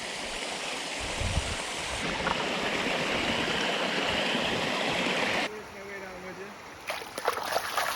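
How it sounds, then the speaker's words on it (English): Rushing river water and a waterfall heard by a trout stream, a loud continuous wash that drops in level partway through, followed by splashy water sounds. "A waterfall."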